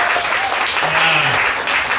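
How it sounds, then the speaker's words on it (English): A comedy club audience at a stand-up show applauds, a dense, steady burst of clapping filling the room from start to finish, with a brief voice cutting through near the middle. "Round of applause, internationals."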